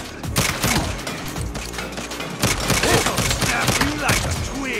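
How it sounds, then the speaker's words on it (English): Rapid minigun fire rattles during combat in the Saints Row video game, in loud bursts mixed with other gunfire and booms, while people talk over it. "Oh, that guy's got a minigun?"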